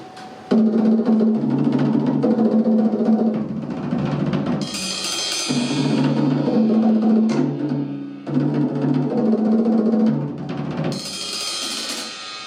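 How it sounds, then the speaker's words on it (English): Loud, sustained snare drum closed double-stroke rolls come in long buzzing bursts separated by brief pauses, dense and continuous rather than individual strokes. "This is closed doubles, where I'm literally, the stick's bouncing twice, but I'm only doing one action."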